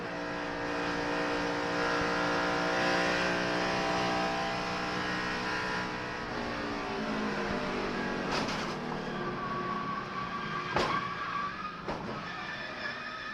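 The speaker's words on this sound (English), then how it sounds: "Let's ride with Kenny Schrader. This won't be any fun. This ought to hurt. Listen to this." Onboard a NASCAR race car during a crash at the 3M Performance 400, the engine screams loudly at high revs, then the pitch drops and wavers as the car slows, with sharp impact bangs near the end.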